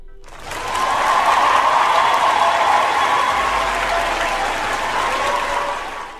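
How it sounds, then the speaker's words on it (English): An audience claps loudly for several seconds, a dense, sustained wash of hands that swells quickly, holds steady and tapers slightly toward the end. "You get a round of applause."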